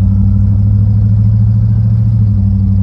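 A Chevrolet C3500 truck engine, brought back after sitting dead for two years, runs at a loud, close, steady idle with a deep pulsing rumble and no voices.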